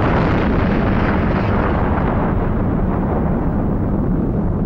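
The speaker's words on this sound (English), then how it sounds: "The hydrogen bomb." A hydrogen bomb detonation in a historical thermonuclear weapons test produces a continuous, massive roaring rumble, loud and dense throughout with heavy low-end power and no pauses or voices.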